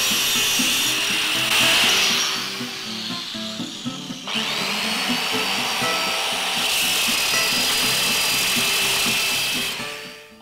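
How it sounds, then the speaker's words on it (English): A belt sander works over a welded steel plate, giving a loud, continuous abrasive whine and rasp that shifts in pitch and texture as the tool is pushed across the surface, with no voices. "I thought I'd try my belt sander for the final finish, and it did actually work quite well."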